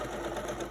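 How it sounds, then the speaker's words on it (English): A sewing machine runs a steady, continuous stitch as quilt pieces for a modified nine-patch top are joined with a quarter-inch seam, with a close, even mechanical hum throughout. "I'm going to sew this with a 1/4 inch seam"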